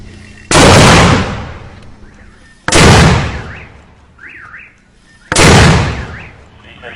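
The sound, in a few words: mortar being fired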